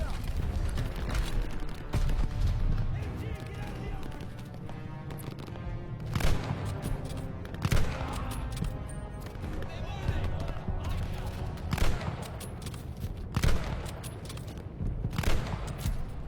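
Distant gunfire and artillery rumble in the Call of Duty: Vanguard video game, with repeated sharp bursts spaced every second or two over a dense battlefield din, while a voice talks throughout.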